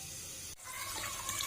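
Kitchen tap water pours through a sieve fitted over the faucet while ingredients for saag chawal are washed, a faint, steady hiss of running water with a brief dip before it resumes.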